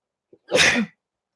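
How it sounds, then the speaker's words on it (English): A single sharp sneeze, loud and close, preceded by a quick intake of breath. "Hold on, I got to sneeze."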